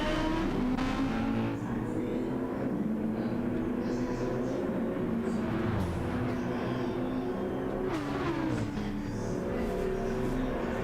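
Race cars accelerate together off the grid at the Catalunya GP circuit in a racing video game, a dense, loud engine roar with rising revs throughout, mixed with broadcast commentary.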